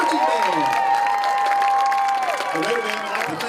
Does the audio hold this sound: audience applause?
yes